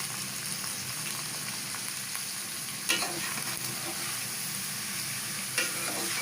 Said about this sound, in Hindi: इसको ऑयल में अच्छी तरह फ्राई करना है।